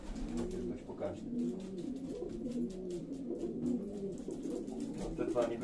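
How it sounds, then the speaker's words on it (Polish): Racing pigeons coo inside a loft, a soft repeating rolling coo roughly once a second from nearby birds, with some low background noise and quiet speech. "to są późne gołębie."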